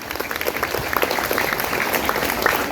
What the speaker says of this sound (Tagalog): Deserve po niya yung palakpak na yon